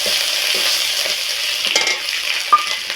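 Grated ginger frying in hot oil with bay leaf and dried chilli gives a loud, continuous bright sizzle, broken by soft scrapes and clicks as it is stirred, with one sharp ping of metal near the end.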